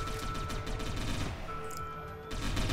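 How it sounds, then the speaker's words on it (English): Submachine gunfire in the PC game Satellite Reign: continuous rattling bursts with a dense, steady roar, fairly faint in the mix, and no one talking. "So now we're just gonna let the SMGs do the talking"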